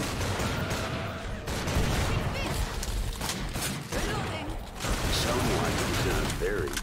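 Gunfire from the video game Killing Floor 2 crackles in dense, continuous bursts across the whole stretch, loud and busy, with a few brief dips in the mix.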